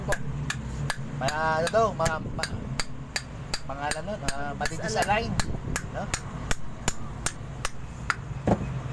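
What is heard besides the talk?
hammering an aluminum electric fan stator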